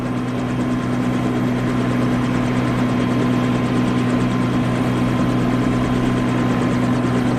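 A helicopter flies with a loud, continuous rotor drone and a steady engine hum, heard from inside the cabin, with no voices.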